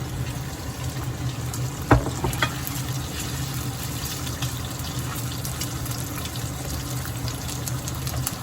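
Pork fat and onion stems fry in a pan, a steady close sizzle and crackle that runs through the whole stretch with one brief clatter early on and no talk.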